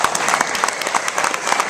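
Audience applause for Arch Campbell at a live hosted screening event, a steady wash of clapping hands with no pauses, moderately loud and close throughout.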